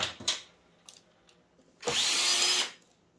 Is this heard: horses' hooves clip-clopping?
no